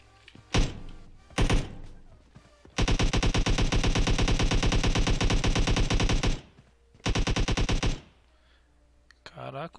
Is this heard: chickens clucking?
no